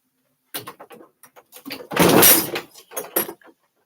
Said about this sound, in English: my pets opened the door